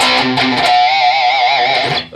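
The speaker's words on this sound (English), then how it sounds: "2 palm mutes in the power chord." Palm-muted power chords on a distorted electric guitar: a few quick chugged attacks followed by a loud, sustained, wavering chord, alone with no talking.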